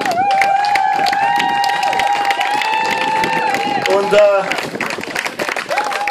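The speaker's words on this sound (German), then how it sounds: "Ich würde sagen, einen großen Applaus verdient." Wedding guests applaud and cheer after a musical fireworks display, a lively crowd clapping under a speaker's amplified voice that talks over much of the noise.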